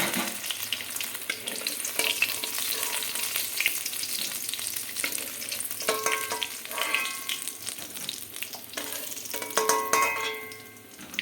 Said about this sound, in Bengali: বাকি মাছগুলো আমরা এইভাবে ভেজে নেব।